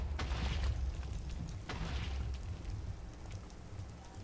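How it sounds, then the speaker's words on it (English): A skeleton explodes in a video game: two sharp, loud blasts a little over a second apart, each followed by a rumbling, crackling tail over a steady low background. "A skeleton exploded and you died in the process."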